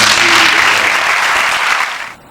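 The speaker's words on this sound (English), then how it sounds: "I think we owe those people a big round of applause for kicking on." Audience at a school staff meeting breaks into loud, close applause, a thick burst of many hands clapping that holds steady for about two seconds and then drops away abruptly.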